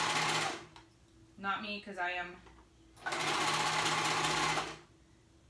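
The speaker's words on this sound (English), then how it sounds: "I'm just using my serger" A serger runs in two loud, steady mechanical bursts, close by, with a short stretch of speech between them.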